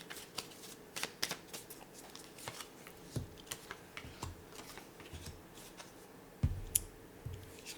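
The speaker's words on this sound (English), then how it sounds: "I will now draw some tarot cards to see what else is incoming for this energy" Tarot cards are shuffled by hand, giving a run of soft riffling flicks and taps at an irregular pace, quiet and close, with one sharper knock near the end and no talking.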